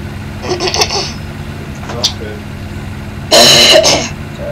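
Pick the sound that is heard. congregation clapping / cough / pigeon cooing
cough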